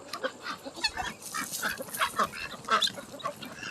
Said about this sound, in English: I've got a couple ducks following me.